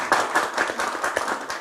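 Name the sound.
audience applause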